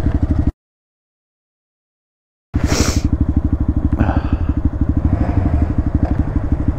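A motorcycle used for wheelie practice chugs with a close, loud, rapidly pulsing engine beat, cut by about two seconds of dead silence early on, then resuming with a brief burst of hiss and clatter.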